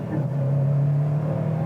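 A 2019 Subaru WRX STI S209 turbocharged engine revs at low RPM, a steady droning hum held for a moment and close by, with no talk.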